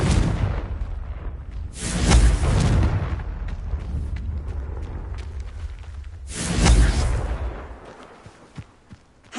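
Two heavy explosive blasts from the Confringo spell in Hogwarts Legacy, each a booming whoosh about four seconds apart, loud and close, with no talk.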